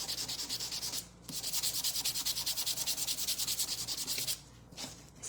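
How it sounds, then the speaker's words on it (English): Rhythmic back-and-forth sanding on a handmade desktop flag, steady rasping strokes close up with two short pauses, no talking. "So let's maybe sand it a little."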